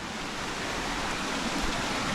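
Steady rushing roar of the Morang waterfall cascading over slippery rocks into clear pools, a broad continuous wash of water noise close by with no voices.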